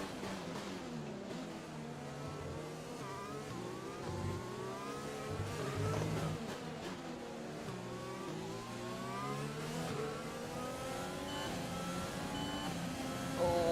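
A Formula 1 car in the F1 2020 racing game screams at Mexico, its high engine note rising and falling sharply through repeated upshifts and downshifts, close and continuous for the whole stretch.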